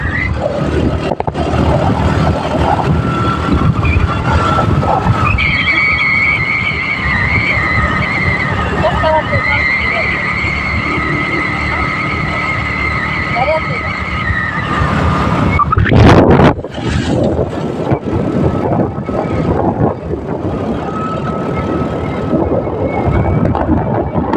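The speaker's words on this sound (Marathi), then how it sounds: "गाडी चालली" A vehicle drives along a road with a detour around roadwork, its steady engine and tyre rumble running throughout with wind buffeting the microphone, a brief loud whoosh near the end, and people talking over it.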